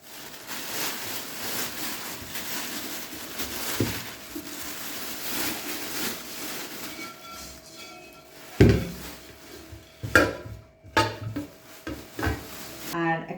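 A frying pan with a lid is picked up and handled, giving dull knocks and clinks of metal on wood, with sharper clatters near the end and soft rubbing between them.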